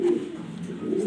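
Black Danish pigeons, a breeding pair, coo in a steady low rolling murmur that runs throughout, close and fairly loud with no talk over it.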